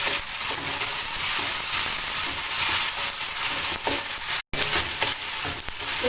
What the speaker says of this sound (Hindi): प्याज को लहसुन अदरक के पेस्ट के साथ अच्छी तरह मैं फ्राई करूँगी